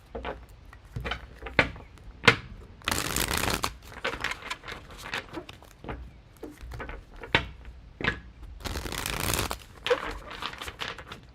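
Tarot cards being shuffled close up, repeated quick riffling bursts and soft card slaps in an irregular rhythm, with brief pauses between handfuls.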